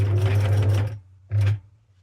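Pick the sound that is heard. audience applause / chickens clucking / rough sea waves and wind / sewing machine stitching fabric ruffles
sewing machine stitching fabric ruffles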